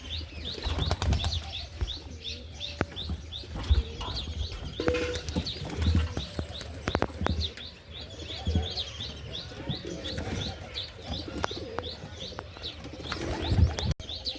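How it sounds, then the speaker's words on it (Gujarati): Pigeons at a nest where a parent feeds its chick, with repeated chirps, soft coos and bursts of flapping wings close by, steady throughout with no talk. "આ એનો કબૂતરો બચ્ચાને દાણા ખવડાવે છે"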